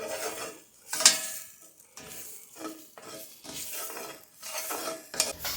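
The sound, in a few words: stirring flour in a pan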